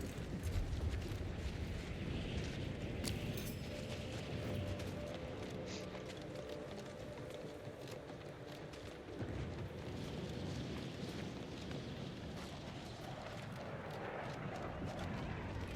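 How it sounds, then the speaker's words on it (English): A spaceship passing in The Outer Worlds 2 gives a steady, loud, rumbling roar that fills the whole stretch, swelling slightly near the start and again toward the end. "I heard a missile. Oh no, that's a ship."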